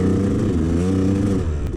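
A two-stroke dirt bike engine holds a loud, buzzy rev with a wavering pitch, close by, then eases off at the end.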